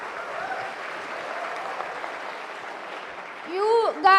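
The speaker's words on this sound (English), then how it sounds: "You guys are just clapping." Audience applause at a university conference session, a soft, steady patter of clapping in a hall that runs for a few seconds before a voice cuts in near the end.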